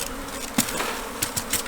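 A swarm of honeybees being collected hums with a dense, continuous buzz, with a few louder individual bees passing close by.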